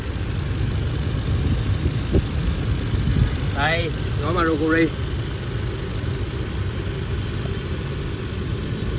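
A used 2018 Toyota Innova E idles with its engine running, a steady low rumble throughout while someone speaks briefly in the middle.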